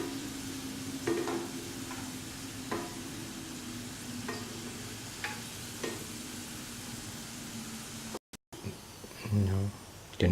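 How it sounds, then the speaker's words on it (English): Sweet banana balls (pazham bonda) fry in oil in a pan, giving a soft, continuous sizzle with occasional light scraping or clinks as they are turned. A voice talks over part of it. "fry by turning from side to side for 5 to 10 minutes"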